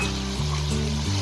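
Black chili, salt and green chili hit the hot karahi for Peshawari chicken karahi, giving a loud, continuous sizzle with faint stirring scrapes throughout.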